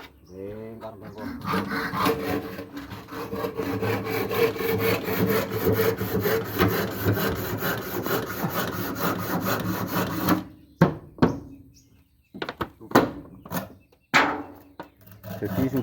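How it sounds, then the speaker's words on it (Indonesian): A hand saw cuts through hard ulin wood in rapid, rhythmic rasping strokes for about ten seconds, then gives a few slower scattered strokes with pauses, with faint voices in the background. "Kita coba dulu itu gergajinya coba"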